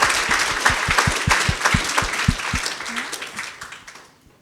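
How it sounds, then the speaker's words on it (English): An audience at a tech panel event claps for the panelists, brisk applause with distinct close hand claps that gradually thins out and fades to quiet near the end. "just a round of applause for our amazing panelists"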